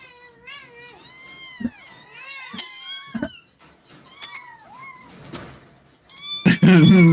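Cats meow repeatedly in rising and falling cries, several overlapping, ending with a loud, harsh yowl close by.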